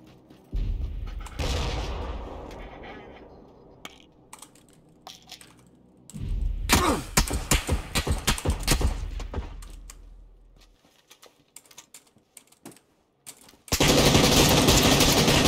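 SLR rifle fire in the PUBG video game, loud bursts of rapid shots in separate volleys with quieter gaps between them, close and without talk.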